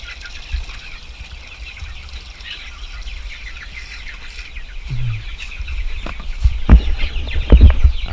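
Meat chickens clucking and calling softly amid steady outdoor background noise, with a few louder bumps and squawks near the end.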